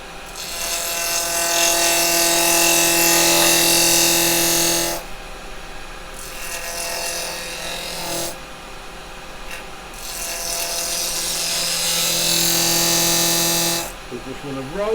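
A wood lathe turns a piece while a carbide chisel is rolled in on its bevel. The cut makes a loud, broadband rushing scrape that comes and goes in several long passes, with the steady tonal hum of the lathe motor beneath.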